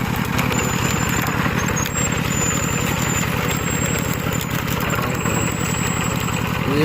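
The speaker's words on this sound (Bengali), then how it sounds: "আখের রসটা মেশিনের সাহায্যে বের করা হয়" A sugarcane juice extracting machine runs at a jaggery-making site, a loud, steady, throbbing engine-like drone with an even, rapid pulse that holds unchanged throughout.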